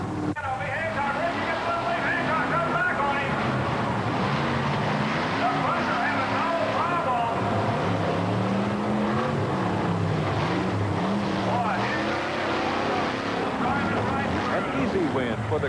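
Monster trucks racing at a 1987 TNT Power Trax event in Cleveland, Ohio, the Terminator Bronco against the Crimson Crusher Ford: a loud, continuous engine roar with shifting pitch throughout, mixed with arena crowd noise and announcer talk.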